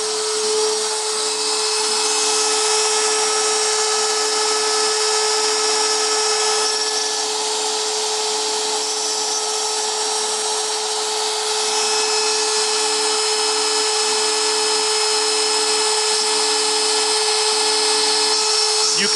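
A CNC router spindle mills the last small leftover sliver off a hold-down clamp, giving a steady, loud, high machining whine with a constant hum that runs unbroken and close for the whole stretch.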